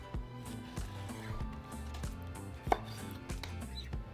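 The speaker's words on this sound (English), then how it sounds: "So I'm just going to cut them into small strips" Knife slicing pork fat into small strips for chicharrones on a cutting board, with steady soft chopping taps and one sharper knock, heard up close over faint background music.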